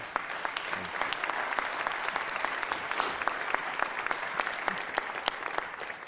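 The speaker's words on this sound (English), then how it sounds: "Join me in a warm round of applause" An audience at a college presidential investiture applauds in a steady, sustained round of clapping, many hands at once, moderately distant and even throughout with no voices over it.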